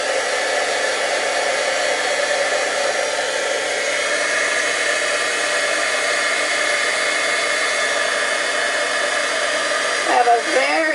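A heat embossing tool blows a steady, loud, hair-dryer-like whoosh while melting embossing powder, running continuously and alone before cutting off near the end.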